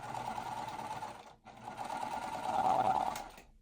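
Sewing machine stitching quilt seams for a mystery quilt, a steady close whirring run that stops briefly partway through and then resumes, louder toward the end, with no talking.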